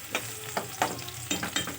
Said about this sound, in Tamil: வெங்காயம் போட்டு லைட்டாக இப்படி வதக்கி எடுத்துக்கோங்க